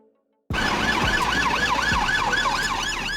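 A police patrol car siren wails in a steady, rising-and-falling cycle, loud and close, starting abruptly after a short silence and continuing alone with a faint road rumble beneath it.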